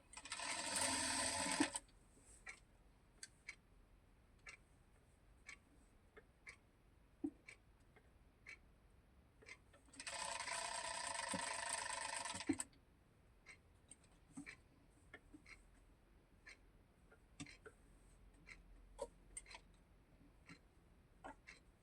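Sewing machine running two short bursts while stitching piping onto a square neckline, the first brief and the second a few seconds long, between quiet stretches of light ticks and fabric handling.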